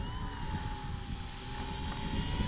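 A Dynam WACO RC model biplane drones steadily overhead on approach to a runway, a faint continuous engine and propeller whine with wind noise, its propeller badly out of balance.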